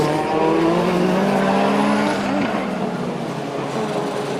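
Peugeot 205 Turbo 16 rally car accelerating uphill, a loud, close engine roar with rising revs held steady throughout, a slight dip and recovery midway, and no talk.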